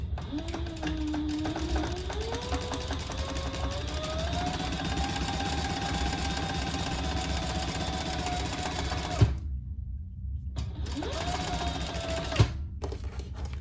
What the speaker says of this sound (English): So I'm just going to do some chain stitching here.